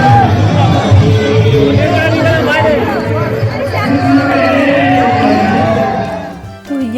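Dense crowd of pilgrims pressing through the lanes at Nidhivan in Vrindavan, a steady close hubbub of many overlapping voices with scattered calls and shouts, fading abruptly at the very end.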